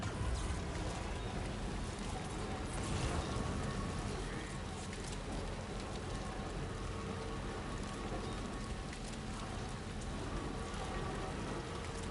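Steady heavy rain in the video game Death Stranding 2: On The Beach, a dense, even wash of drops hitting surfaces, faint and constant throughout with no other clear sounds.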